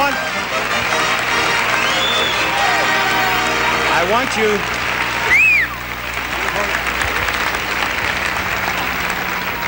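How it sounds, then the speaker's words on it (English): At the 1973 Miss USA pageant finale, a large audience applauds and cheers continuously in a big hall. Voices and whooping cut through the sustained clapping. "They were applauding so they didn't hear you."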